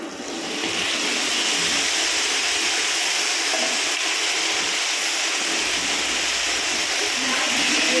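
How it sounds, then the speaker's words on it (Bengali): Marinated mutton dropped into a pan of frying onions, giving a loud, steady, close sizzling hiss that starts abruptly and carries on without a break. "আমি এবারে মাংসটা যে মাখিয়ে রেখেছিলাম, দেখুন সব কিছু মশলা দিয়ে ম্যারিনেট করে রেখেছিলাম, এটা আমি দিয়ে দেবো"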